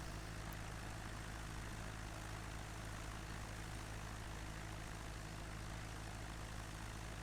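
Steady propeller-plane engine drone from a red aircraft in a flight simulator game, near Aosta Valley Airport and Mont Blanc, a constant even hum running alone throughout.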